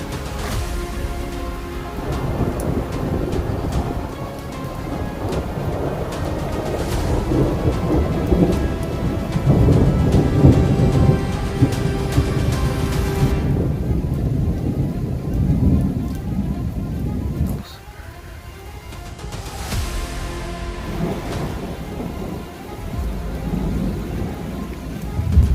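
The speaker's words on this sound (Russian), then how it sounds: "Сейчас гром будет." Thunder rolls and rumbles through a summer thunderstorm over steady heavy rain, loud and continuous, with a brief lull in the downpour before the rain and rumbling return.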